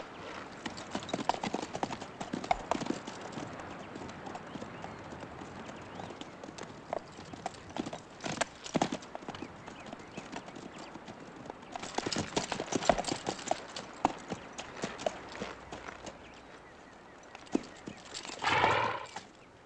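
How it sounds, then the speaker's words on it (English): Horses walk at a steady pace in a Western film set in the Apache Wars, with rhythmic clip-clopping hooves throughout and a clear whinny near the end, no talk. "these horses need water"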